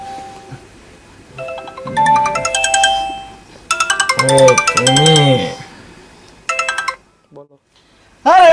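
A mobile phone ringtone rings loudly in a melodic electronic pattern, stopping and restarting, with a voice speaking briefly over it.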